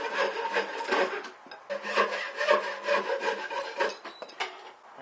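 Hand-sawing wooden supports for a DIY solar panel case: rhythmic rasping strokes cut through the wood up close, pausing briefly between bursts, with no talking.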